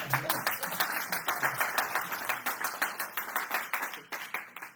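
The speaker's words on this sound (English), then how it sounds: "can we have a round of applause for Evan?" Audience applause for a speaker at a debate event: a small group claps in a brisk, fairly even rhythm, close and distinct, trailing off toward the end.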